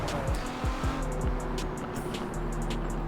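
Ferrari Enzo drifting in Forza Horizon 4, with a loud, close engine note and rising revs under continuous tire squeal and skidding.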